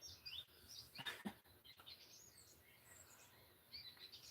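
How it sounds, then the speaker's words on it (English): Birds chirp and tweet outdoors in short, scattered high calls, fairly faint, with a soft steady background wash that may be nearby water. "These birds singing are making me sleepy."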